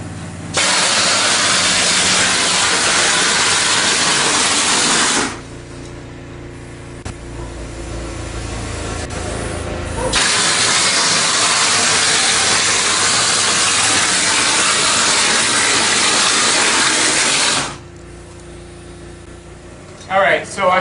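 A stucco sprayer blasts texture onto a wall in two long bursts of loud, broad hissing spray, each lasting several seconds and separated by quieter pauses where a low motor hum carries on.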